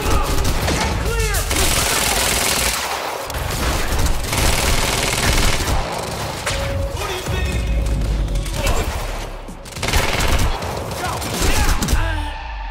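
Sustained gunfire and bursts in the Quantum Break video game, dense volleys with crashes and booms over a campus firefight, loud throughout with shouting voices mixed in.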